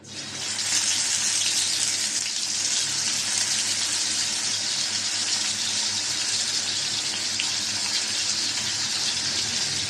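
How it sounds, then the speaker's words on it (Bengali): Pangas fish frying in a pan with meat spices, a loud continuous sizzling hiss that holds steady throughout with no talk. "মাছটা বাজা হয়েছে এটিকে আমি উঠিয়ে দেবো"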